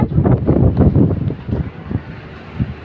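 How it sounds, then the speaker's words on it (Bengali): Strong cyclone wind gusts buffet the microphone in a rural area where trees are swaying, producing a loud, uneven low roar that surges and eases throughout without any talk. "দেখেন বাতাসে কি হয়েছে"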